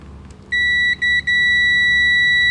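A multimeter set to its continuity buzzer beeps sharply as a multicore cable's white wires are joined: a steady high tone, briefly broken twice, then held, loud and close.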